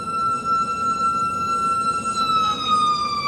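A fire engine siren wails steadily and loudly over low road rumble, its tone dipping slightly as it moves past.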